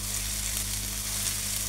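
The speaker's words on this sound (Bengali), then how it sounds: "জিরাটাও ভাজা হয়ে গেছে" Cumin seeds and spices frying in oil for chicken biryani make a soft, steady sizzle close to the pan, with a faint low hum beneath and no talking.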